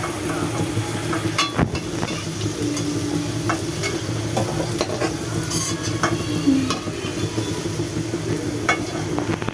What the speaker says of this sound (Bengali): একইভাবে আমি অন্য ভেন্ডিগুলো ভেজে নিলাম।